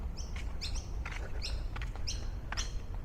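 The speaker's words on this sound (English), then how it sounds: "Got birds and ducks." Birds chirp in an Australian community setting, a series of short bright tweets in quick clusters, moderately close, over a constant low background rumble, with no talk.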